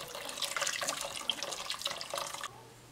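Hot water poured into a pan of meatballs frying for Algerian wedding kefta, a steady close hiss and splash that runs for a couple of seconds and then stops abruptly.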